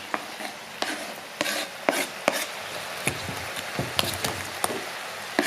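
Tomatoes tipped into a pan of frying mud crab, with repeated sharp clinks and scrapes of stirring over a steady close sizzle.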